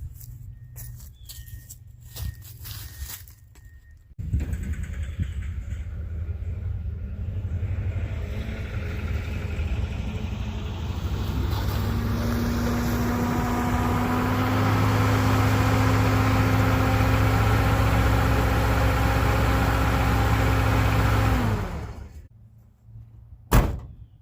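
A Nissan D21 pickup parked on gravel, with a door thud at the start. Its engine then starts and idles steadily for several seconds with a rising whine, before shutting off with another clunk at the end. No one speaks.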